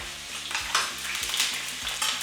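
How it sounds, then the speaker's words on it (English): Lamb chops deep fry in hot oil with a dense, continuous sizzle and crackle, alongside periodic low scraping knocks from stirring, close and steady with no voices. "That beautiful sizzle, that oil all around."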